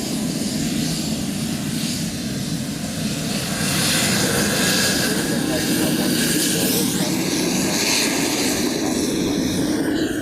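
A Boeing C-17 military transport aircraft passes near an airfield in Hawaii during RIMPAC, its steady, loud jet roar filling the whole stretch and swelling slightly midway, with voices faintly under it.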